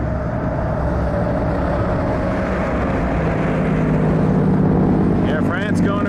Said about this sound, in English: A lot of cars, a lot of traffic.